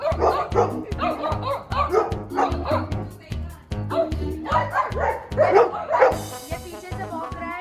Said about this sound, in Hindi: ये पीछे से भौंक रहा है और ये एकदम आगे फ्रंट लाइन से भौंक रहा है।